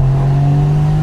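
A Porsche Boxster Spyder engine holds a loud, steady drone at close range, a constant deep hum lasting about a second with no talk.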